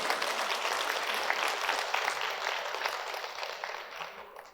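A lecture audience in a Seongnam City Hall hall breaks into clapping, a crowded patter of hands that holds steady and then fades slightly toward the end.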